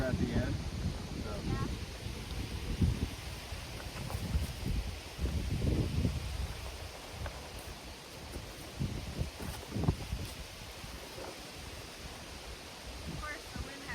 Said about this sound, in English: Of course, the wind has to pick up right now.